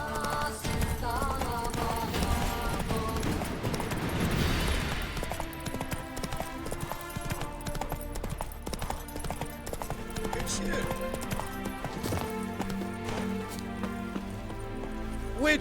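Roach, a horse in The Witcher 3, gallops with rapid clip-clop hoofbeats over a dense game soundtrack and ambience, loud throughout, with voices speaking over it.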